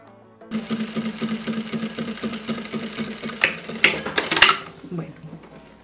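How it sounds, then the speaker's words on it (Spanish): A sewing machine stitches steel corset boning into place in a rapid, even clatter of needle strokes, then a few sharp clicks and clanks of handling the fabric near the end. "Empezamos a coser la varilla."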